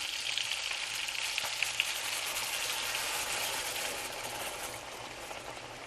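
Orange juice poured into a hot skillet hisses and sizzles in a steady, bright crackle that fades slightly toward the end, close but moderate in level with no voices.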